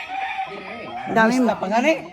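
Chickens cluck and a rooster gives a short crow-like call at a rural provincial home, close and brief, with people talking over and around the calls.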